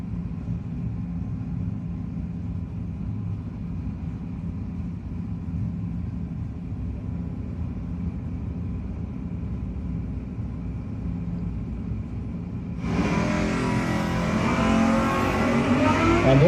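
A drag-racing motorcycle and a car at a no-box 660 shootout, idling steadily with a low, droning rumble, then launching together in a sudden loud, roaring burst that stays strong to the end.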